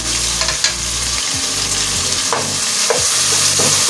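Dal masala with red chilli powder, ground coriander, garam masala and tomatoes fries in a pan, a close steady sizzle broken by several scraping stirring strokes.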